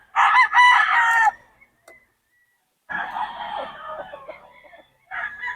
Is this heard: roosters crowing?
yes